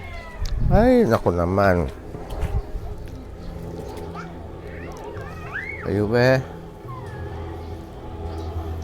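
Several cats meow insistently and close by, one long wavering cry followed by a pair of calls, then more meows a few seconds later, with someone talking between them.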